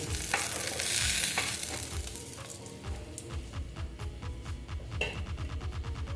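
Koi fish (climbing perch) fries crisp in oil for a mustard and poppy seed curry, a steady sizzle under a rhythmic run of stirring scrapes and light metallic clinks from a spatula in the pan, with no speech.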